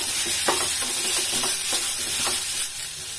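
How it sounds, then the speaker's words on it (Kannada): Onion and tomato frying in a pan, a steady loud sizzle with repeated scraping stirs of a spoon against the pan throughout. "ಇದಿಷ್ಟು ಚೆನ್ನಾಗಿ ಫ್ರೈ ಮಾಡ್ಕೋಬೇಕು. ಅಂದ್ರೆ ಉಳ್ಳಾಗಡ್ಡಿ ಮತ್ತೆ ಟೊಮೆಟೊ ಎಲ್ಲಾನು ಕೂಡ ಸಾಫ್ಟ್ ಆಗಬೇಕು."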